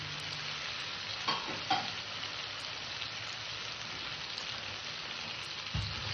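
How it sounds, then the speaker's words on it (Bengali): Potatoes fry in a spiced tomato masala for kasundi aloo dum, a constant sizzle running under a few sharp scrapes of a spoon stirring the pan, with no talking. "আলুটা দিয়ে আমি ভালো করে কষিয়ে নেব।"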